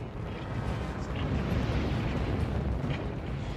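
Deep, continuous rumbling roar of a huge explosion-like blast, standing in for a coronal mass ejection of charged plasma bursting from the Sun into space; loud, dense and sustained throughout with no speech.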